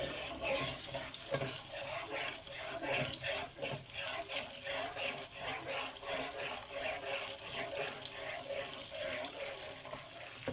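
Onion paste frying in hot cooking oil for Shahi Daal Mash, a steady loud hiss and crackle that runs unbroken and close throughout.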